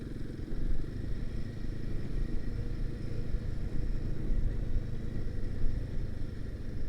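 A Royal Enfield Himalayan 452 motorcycle engine running while riding, a steady low rumble around mid revs with constant wind and road noise and no speech.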